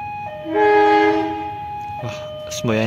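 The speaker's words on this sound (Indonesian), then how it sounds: "lokomotif dinasnya adalah lokomotif putih ini, kayaknya CC201" A white CC201 diesel locomotive at the Yogyakarta depot sounds its horn in a sustained loud tone, followed by shorter toots and another horn blast near the end.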